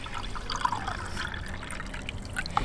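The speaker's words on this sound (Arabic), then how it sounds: "هناخد عليها كوبايه ربع ميه من دي" A quarter cup of water is poured into a plastic bowl while making slime, a faint, close trickle with a few small splashy drips and no voices.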